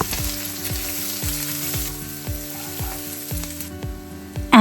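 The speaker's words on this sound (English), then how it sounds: "Add the sliced onions or salad onion whites." Sliced onions sizzling in hot oil in a pan for Hakka noodles, a loud, steady frying hiss close up with rhythmic knocks of a spatula tossing them, no voices.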